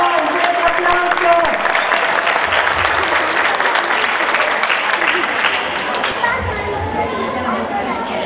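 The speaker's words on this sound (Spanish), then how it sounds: "Un fuerte aplauso." An audience at a children's dance festival in Samacá bursts into loud, sustained applause, a thick wash of clapping mixed with crowd chatter and voices that holds steady for eight seconds.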